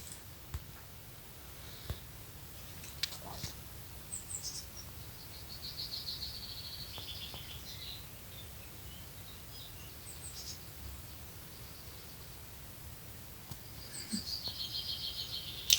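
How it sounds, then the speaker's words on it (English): Bursts of high, thin trilling song from a small blue tit in a bush, fairly faint at a distance and recurring several times over a soft outdoor background with scattered clicks, no talking. "Looks like a little blue tit."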